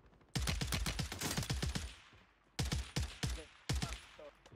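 Gunfire in the video game Warzone 3 on Rebirth Island: loud, close bursts of rapid automatic shots, with a short pause between three volleys, no talking.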